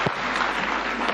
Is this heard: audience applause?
yes